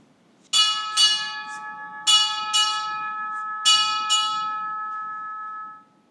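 A ship's bell struck six times in three pairs at a U.S. Navy change of command ceremony, loud, clear metallic rings with each pair evenly spaced and the last tone ringing out before fading.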